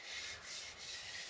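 A hand rubs across an oiled wooden charcuterie board, a soft continuous hissing friction with gentle back-and-forth swells, close and quiet.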